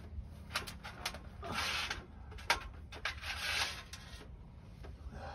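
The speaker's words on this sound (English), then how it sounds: "that nut should be coming off here" A wrench works a nut loose on a vehicle during an outdoor shade-tree repair, giving close, irregular metallic clicks and short rasping ratchet-like bursts with brief pauses, with no talking over it.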